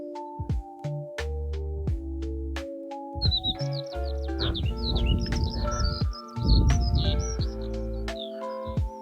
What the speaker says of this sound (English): And you've got the sound of the birds.